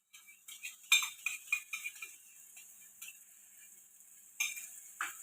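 Yogurt is stirred into paneer tikka masala gravy in a pan, giving faint, soft scraping and light spoon clinks in irregular strokes, fading briefly and then returning.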